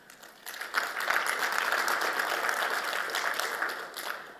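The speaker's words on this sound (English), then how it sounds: "So give yourself a round of applause." A room of people claps in a steady round of applause that builds quickly and holds at an even level for about four seconds before tapering off, at the close of a talk on software integrations.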